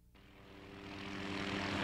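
A helicopter flying over bear country approaches, its steady engine drone building from faint to loud over a couple of seconds with no voices.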